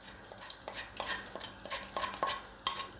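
White cumin seeds roast in a pan while a spoon stirs them, giving quick, irregular scrapes and clinks over a soft, faint sizzle, with no voices.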